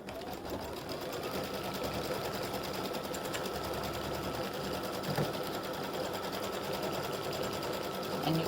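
An embroidery machine stitches a placement stitch for an appliqué St. Patrick's Day gnome design, running as a steady, fast mechanical hum and patter the whole time, fairly close and continuous, with no talking.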